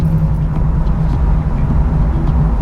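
The V8 engine of a 1968 Pontiac Firebird idles with a slight stumble, a loud, steady low rumble close by with faint irregular wavering and no talk.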